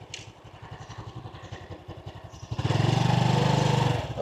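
Motorbike engine idling with a steady, rapid putter close by, then a sharp rev swells the sound louder and rougher for about two seconds before settling back, no talking.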